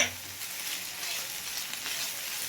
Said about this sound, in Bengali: এটাকে হালকা করে একটু ভেজে নিই।